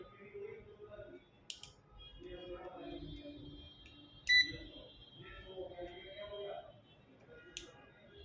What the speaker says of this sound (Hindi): ये देखिए यहाँ पे क्लिक की आवाज़ आ रही है